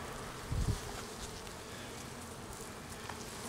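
Honeybees buzz in an open hive during an inspection, a dense, steady droning swarm with a brief nearer low hum from a passing bee, moderately quiet and continuous throughout.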